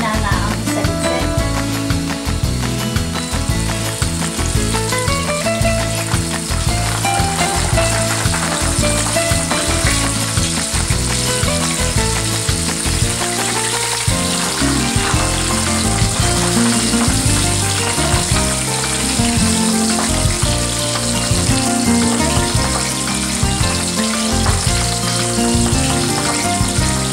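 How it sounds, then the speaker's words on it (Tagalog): Fish frying in a covered pan gives off a loud, steady sizzle that runs unbroken throughout, with what sounds like rhythmic music playing underneath. "Sa pagpiprito ng anumang isda, takpan ang kawali."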